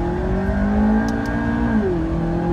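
A McLaren MP4-12C engine revs hard toward redline as a loud, steady, close drone, its pitch holding high then dropping at the end as the car shifts.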